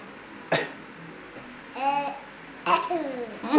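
A young child makes a few short, breathy cough sounds, imitating a cough, with babbling in between; close and fairly quiet.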